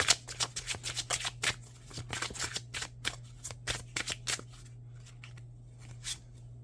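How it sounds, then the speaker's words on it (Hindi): Tarot cards being drawn and handled from a deck give a quick run of crisp papery flicks and shuffles, close and fairly loud, which thin out to a few scattered snaps near the end. No one speaks. "मैं 2 कार्ड और निकालूंगी"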